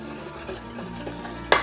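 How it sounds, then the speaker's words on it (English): A whisk works zabaglione egg mixture in a stainless steel bowl with soft, steady stirring and scraping, ending in one brighter metallic clink near the close. "do not stop whisking or you will end it up with a scrambled eggs"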